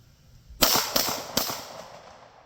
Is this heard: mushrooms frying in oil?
no